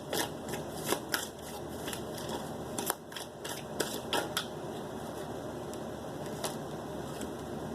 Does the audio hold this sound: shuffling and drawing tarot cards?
yes